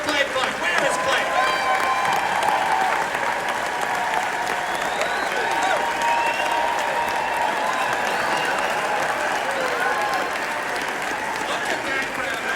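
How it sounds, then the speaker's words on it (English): A large crowd at a live event claps steadily for several seconds, dense and continuous with scattered cheers, while a voice talks over it. "give it up for Clay Clark"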